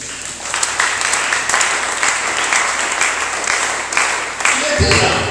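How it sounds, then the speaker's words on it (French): Church congregation applauding at a French-language service, a dense, steady wash of clapping lasting throughout, with shouts and voices mixed in and a louder low rumble rising near the end. "Acclamons pour le gloire de Jésus."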